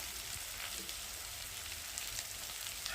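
Spices frying in oil for a mustard fish curry, a steady close sizzle with crackling pops like rain, no talk over it.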